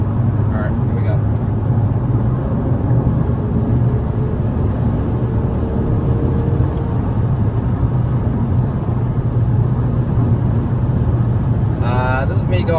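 A 2021 Hyundai Sonata N Line fitted with a Borla exhaust cruising at highway speed: a steady, loud engine and road drone with low exhaust hum throughout, plus faint wind and tire noise.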